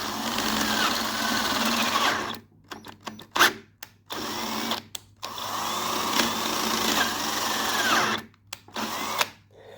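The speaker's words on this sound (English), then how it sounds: "we're just trying to drill that out a little bit so we can put a helicoil into it" A power drill whines in long sustained runs, boring out a bolt hole for a helicoil on a 31 ci Briggs engine, stopping and restarting several times with short quiet gaps between bursts.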